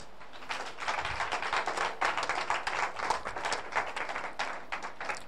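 A church congregation claps and acclaims God at a French-language worship service, a dense, steady patter of many hands lasting several seconds, mid-distance in a reverberant room.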